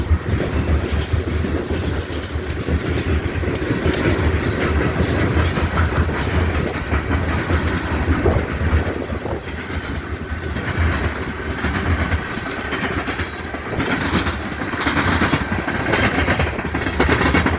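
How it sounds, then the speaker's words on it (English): A coal train rolls past on the rails with a loud, continuous rumble and rhythmic clickety-clack of wagon wheels, with occasional faint squeals, and no voices. "The train is down there."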